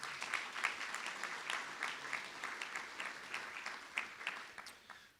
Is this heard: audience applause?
yes